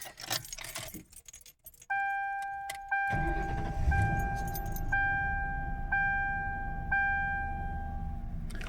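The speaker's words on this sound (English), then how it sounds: "All right, let's go ahead and start the car up." Keys jangle before a Ford Crown Victoria cranks over and its engine catches, settling into a steady idle close by while a repeating chime sounds from the dashboard.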